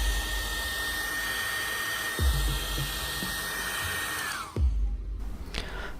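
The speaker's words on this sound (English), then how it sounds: "Take any hairdryer and heat the surface of the screen for 1 or 2 minutes." A hair dryer blows hot air onto an iPhone X screen during a repair, a steady close whirring hum that winds down and cuts off near the end, followed by a couple of light knocks.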